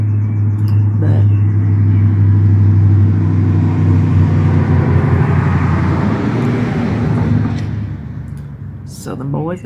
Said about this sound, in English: Southern boys in their trucks.